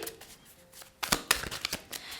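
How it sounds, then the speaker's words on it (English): Tarot cards are shuffled close by. A quiet start gives way to a burst of quick, crisp flicking and riffling snaps. "every tarot reader, they shuffle differently"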